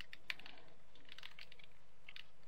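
Quiet bursts of keystrokes on a computer keyboard, a few quick clusters of soft clicks with short pauses between them, close and faint over a low hum.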